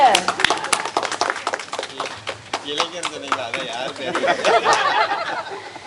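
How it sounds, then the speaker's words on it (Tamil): An audience claps for a gift presentation at a yoga team gathering, a dense patter of many hands that goes on steadily with chatter and voices mixed in throughout. "கைத்தட்டுங்க"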